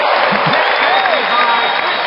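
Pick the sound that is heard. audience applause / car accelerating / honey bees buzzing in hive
audience applause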